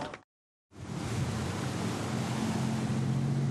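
Strong wind blowing across Nozaki Island, a near-uninhabited island in Japan. The blustery roar starts after a brief silence and continues loud and steady, with a low rumbling undertone.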